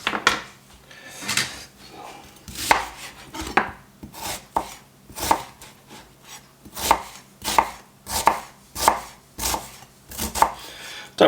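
A knife chops an onion into small dice on a cutting board, with repeated crisp, evenly spaced chops that are close and clear, with no talk.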